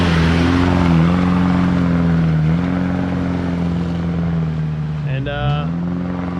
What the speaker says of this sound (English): So here comes the second Isuzu, or Colorado. This one has four-wheel drive.